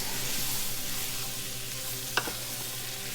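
Meat browning with a spoonful of flour sizzles steadily in a pan while being stirred, a soft continuous frying hiss with a brief utensil scrape near the end.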